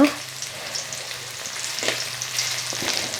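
Small sardines frying in an iron pan, sizzling and crackling steadily and close up, with faint scraping as the fish are turned partway through.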